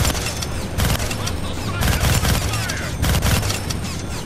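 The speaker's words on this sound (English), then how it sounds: "Gonna need both hands to shoot that minigun." A minigun in the Deadpool video game fires a loud, dense, continuous rattle of rapid shots, with a few heavier surges in the barrage.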